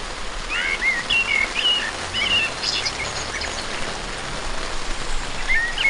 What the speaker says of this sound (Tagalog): Strong rain. Look at that.